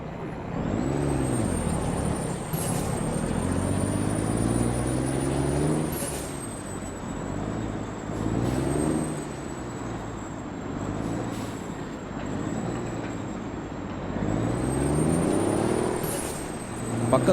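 A heavy truck pulling a loaded trailer in Euro Truck Simulator 2 gives a steady, droning engine with rising and falling revs and several sharp air-brake hisses, heard from inside the cab with no talk.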